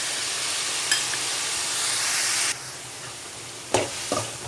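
Tomato, onion and garlic sauté in a pan for a restaurant-style mushroom gravy, giving a loud continuous sizzle that drops in level midway, with a few stirring scrapes toward the end.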